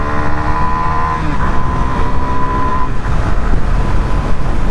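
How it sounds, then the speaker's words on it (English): A Suzuki DR-Z4SM supermoto revs hard near the rev limiter in first gear, then shifts into second and keeps pulling, a loud, close, buzzing single-cylinder drone that drops in pitch at the gear change. "off the rev limiter in first at 30 and then 49 in second"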